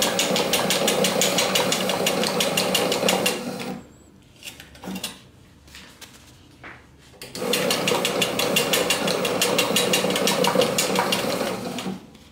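A Vacuumatic Mini TCF friction feeder counting clothing swing tags runs in a rapid, regular mechanical clatter, pauses for a few seconds of quieter handling clicks, then resumes the same fast rattling rhythm nearby.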